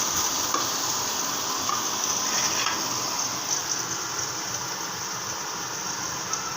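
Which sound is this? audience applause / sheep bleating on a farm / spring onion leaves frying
spring onion leaves frying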